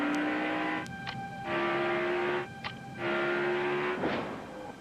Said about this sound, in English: A big day for Mike Harmon and his new number 44 race car